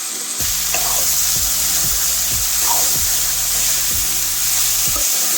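Ivy gourd stir-fry with chilli powder sizzles loudly in a hot pan, a utensil scraping and tapping through it in a regular rhythm of strokes roughly every half second, up close with no talk.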